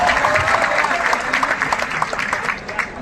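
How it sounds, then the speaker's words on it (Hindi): A hall audience gives steady, dense applause for a teacher entering at a BPSC interview guidance event, the clapping loud and continuous for about three seconds with faint voices beneath. "तो एक बार उनके लिए भी जोरदार तालियां हो जाए आप सभी की।"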